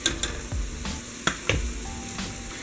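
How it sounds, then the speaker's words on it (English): Curry coconut milk stew simmers on low in a pot while being stirred, a gentle continuous bubbling sizzle punctuated by a few sharp spoon knocks against the pot, with no voices. "I just have it on low and I'm stirring it."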